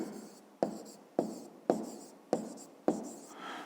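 Someone writes out a fifth-grade maths solution by hand, producing six evenly spaced scratchy pen or chalk strokes that start sharply and fade, close and clear with no talking.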